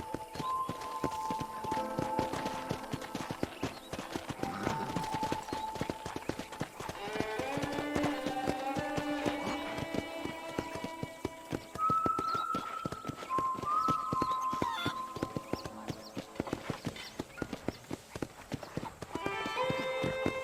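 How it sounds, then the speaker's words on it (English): Steady clip-clop of horse hooves at a walking pace in the video game Red Dead Redemption, moving through a scene layered with music and ambient background sounds. "let's see if you can still ride a horse."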